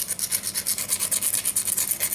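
Copper wire rubbed on sandpaper produces a rapid, steady rasping scrape in quick back-and-forth strokes, close and fairly loud, with no voices.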